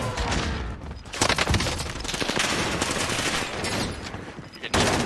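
Gunfire in Call of Duty Warzone on Rebirth Island, dense rapid bursts and overlapping shots loud and close, with a booming hit near the end.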